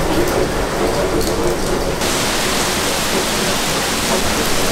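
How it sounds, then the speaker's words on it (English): Heavy rain pours down at night aboard a cruise ship at sea off Singapore in a dense, constant roar, loud and close, with no voices. "Super heavy rain."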